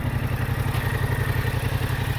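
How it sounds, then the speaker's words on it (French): A 2017 Yamaha Tracer 700 motorcycle idles up close, its engine putting out a steady, fast, even chugging pulse with a mechanical clatter layered over it, unbroken and with no voices. "Avant d'éteindre le moteur,"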